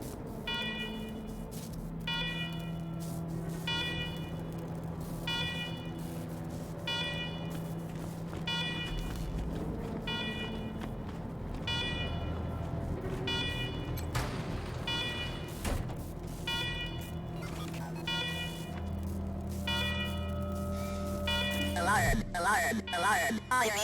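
Alarm in the video game Wasteland 3, heard as a repeating electronic buzzer pulsing in regular bursts under a low synthetic drone, with a voice speaking in places and a shift in tone near the end.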